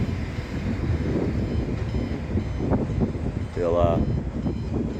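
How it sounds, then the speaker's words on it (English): A Melbourne metro train pulls into Frankston station with a low rumble and a rising whine or squeal near the end, heard outdoors through wind noise while someone talks. "Train coming in, ET train."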